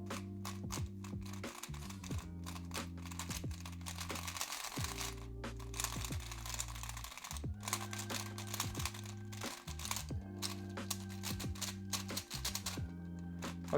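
A Rubik's Connected smart cube, a heavy 3x3, is turned in quick repeated twists, producing a dense, scratchy, rough clicking and rasping that continues steadily and up close, with no talking.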